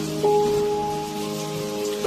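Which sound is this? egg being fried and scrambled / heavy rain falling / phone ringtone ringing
heavy rain falling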